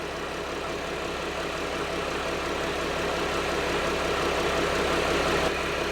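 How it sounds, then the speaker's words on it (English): Mercedes Sprinter van engine idling with a steady, even rumble that holds constant for the whole stretch, close and continuous with no voices. "I'm gonna go in the vehicle and turn off the engine."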